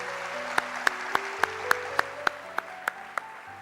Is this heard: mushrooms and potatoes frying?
no